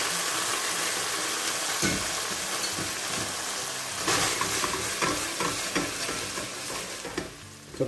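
Meatballs cooking in a pan as tomato sauce goes in, with an ongoing sizzle and scraping stirring sounds, a few louder clatters around the middle.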